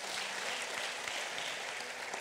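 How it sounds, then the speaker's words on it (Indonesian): A church congregation applauds together in a steady, dense clatter of clapping hands that holds at an even level throughout, with no voices rising above it. "Tepuk tangan dong buat kita."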